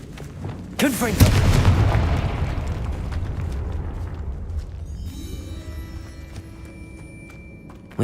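A Confringo blasting spell in Hogwarts Legacy, cast inside a tomb, bursts with a sharp crack and a loud booming explosion whose rumble slowly fades, followed by quieter ambient tones.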